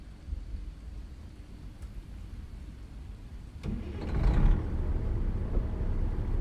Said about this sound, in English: Wipers are on. It's raining.